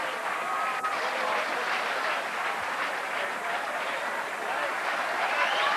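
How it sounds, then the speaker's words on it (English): A crowd applauds steadily at a 1999 European rugby match between Neath RFC and Grenoble RFC, a broad, sustained clatter of clapping with a commentator talking over it. "Good applause"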